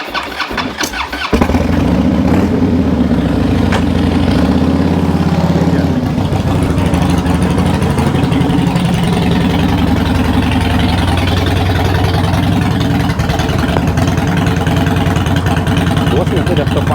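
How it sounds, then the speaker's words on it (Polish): A motorcycle engine cranks and catches after a brief start, then settles into a loud, steady, throaty idle that runs on close by. "Głośny wydech to fajna sprawa, ale jak się ma drugi motocykl."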